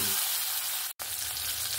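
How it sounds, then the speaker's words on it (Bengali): Loud, dense sizzling of Mandeli fish pieces frying in hot oil, close up and steady, broken only by a split-second gap in the middle. "আমি এখানে অল্প অল্প করে এরকম ভেজে নেব।"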